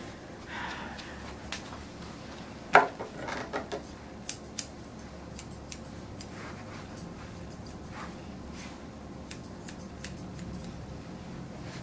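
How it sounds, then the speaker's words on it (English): Blending shears snip through a terrier's fur in quick, light clicks, close and quiet, with one sharper cut early on and scattered snips afterward. "You can use your blending shears if you need to."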